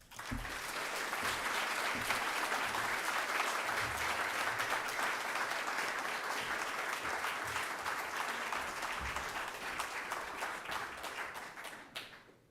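Sustained applause from an audience at an Incite speaking event, welcoming the speaker onto the stage; dense, steady clapping at full strength for about twelve seconds, fading out at the end.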